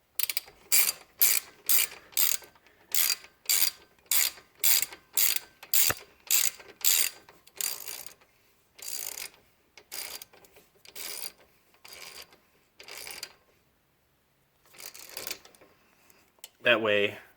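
Ratchet tightening a 14 mm caliper bracket bolt during a front brake job on a Suzuki Kizashi, with rapid repeated bursts of clicking strokes, then sparser strokes with pauses, close and clear.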